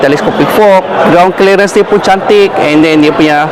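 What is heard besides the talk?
No everyday noises stand out.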